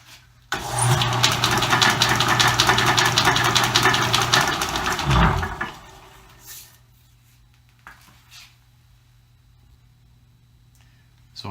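A vintage lathe auto-drive, freshly filled with new oil, runs at high speed with a loud, steady mechanical whir for about five seconds, then cuts off and spins down, leaving near-silence with a few faint knocks.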